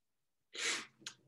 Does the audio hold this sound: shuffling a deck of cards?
no